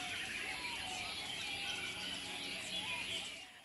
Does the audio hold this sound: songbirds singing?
yes